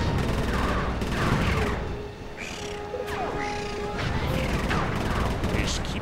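Gunfire from a whale gunship battle in the game Sly 3: Honor Among Thieves, with repeated loud shots and crashing impacts, mixed with other game sounds.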